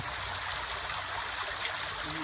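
Water pouring down a built garden waterfall into a home fish pond, constant close rushing and gurgling at an even level with a faint tonal hum near the end.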